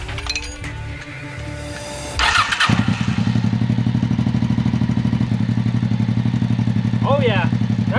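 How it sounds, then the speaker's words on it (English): Honda Shadow motorcycle engine with a freshly replaced spark plug, heard after some clinking: the starter catches and settles into a loud, steady, rapid idle thump close by. A brief high squeak comes near the end, and no one speaks. "Oh yeah, that's firing on that cylinder now."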